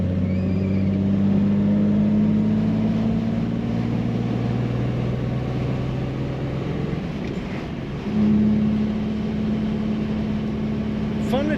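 A 1973 Triumph GT6 Mk III hardtop drives and corners in third gear, its small engine giving a steady low drone from inside the car that dips and then rises again partway through, with a voice talking over it.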